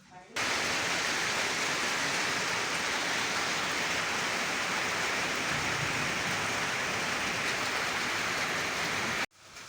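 Heavy rain pours down outside a roadside shop as a dense, unbroken roar that stays loud and even from start to finish, with no voices.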